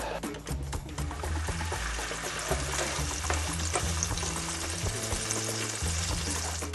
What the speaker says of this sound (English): I'm going to add a liberal amount of olive oil, generous amount of garlic, and we're going to put a little bit of salt on that.